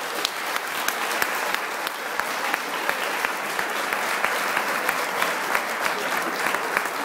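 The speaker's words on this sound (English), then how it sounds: "Once again, let's give them a big round of applause for Kat and George." A crowd claps steadily at a comedy fundraiser show, a dense, sustained round of applause with distinct individual claps ticking through it at a fairly even pace, loud and close throughout.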